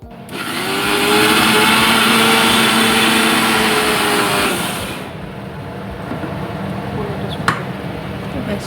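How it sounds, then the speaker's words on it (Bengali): A mixer grinder whirs loudly as it blends ginger, garlic, green chilli and tomato, running steadily for several seconds before cutting off and leaving a quieter kitchen background. "আর এখানে আমি আদা রসুন কাঁচা লঙ্কা টমেটো একসঙ্গে বেটে নেব"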